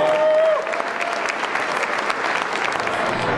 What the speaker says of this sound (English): You guys clap for yourselves.